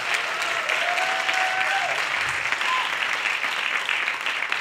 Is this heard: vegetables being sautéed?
no